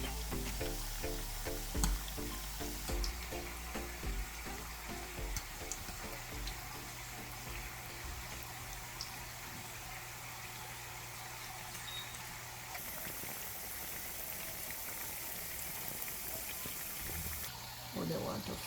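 Jamaican festival dumplings frying in a pan of oil, a steady soft sizzle and bubble running throughout, with a voice talking over parts of it.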